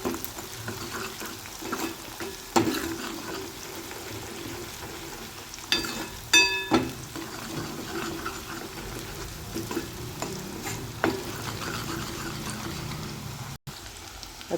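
Momo chutney paste in a kadhai sizzling and frying quietly while being stirred quickly, with a steady soft crackle broken by occasional clinks and scrapes of the spoon against the pan.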